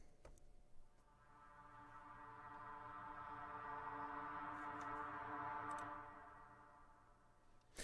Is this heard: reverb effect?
yes